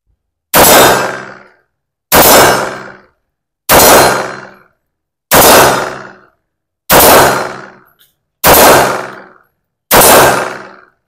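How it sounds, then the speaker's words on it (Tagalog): Seven sharp shots from a Sarsilmaz B6C-S pistol at 18 meters, each ending in a ringing metallic clang off a metal target, spaced evenly about every second and a half, loud and close with silence between. "So, tara putok ulit natin."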